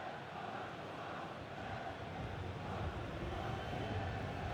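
Stadium crowd roar in a FIFA video game match between Real Madrid and Juventus in the Champions League, a steady, tense wash of massed voices holding at a constant level throughout.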